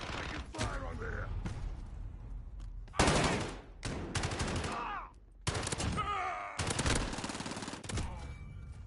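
Bursts of gunfire in the Modern Warfare video game, with short automatic volleys and sharp single shots that come in several loud bouts separated by brief lulls. Voices are heard between the shots.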